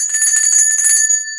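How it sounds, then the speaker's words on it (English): A small bell rings bright and loud in a children's listening game, a quick run of shaken jingles that stops and leaves a single clear tone fading out. "It's the bell. You could hear the bell"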